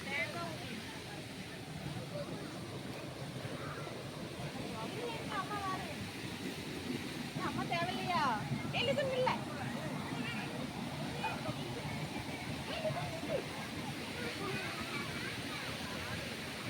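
Steady broadband rush of the Thengai Uruli waterfall at Manjolai, continuous and fairly loud, with faint voices and brief chatter mixed in partway through.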